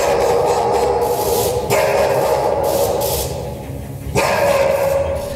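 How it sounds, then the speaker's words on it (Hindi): A large Akita dog barks loudly and repeatedly close by, deep full-throated woofs in quick succession with a brief pause, indoors in front of gathered journalists. "अकीता नाम का यह कुत्ता जोर जोर से भौंकने लगा"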